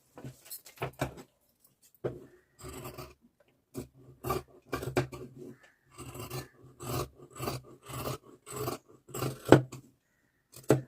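Scissors snipping through blouse fabric during tailoring, a close series of short crisp cuts in irregular bursts with brief pauses, no talk.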